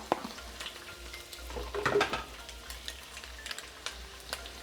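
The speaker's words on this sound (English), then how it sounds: "This has to move fast so you do not burn the garlic or the ginger." Onion, ginger and garlic stir-frying in the same pan that just cooked beef for Mongolian beef, a steady close sizzle with brief scraping stir and clinking pan sounds, loudest around the middle.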